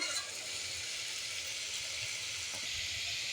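Batter for an eggless egg-style dish fries in a pan with a quiet, steady hiss, without stirring or speech.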